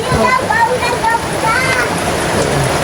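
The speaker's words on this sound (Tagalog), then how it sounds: "Kaya lang grabing ulan, no?" Heavy rain pours down in a steady, dense hiss that fills the whole clip, loud and close, with people talking under it.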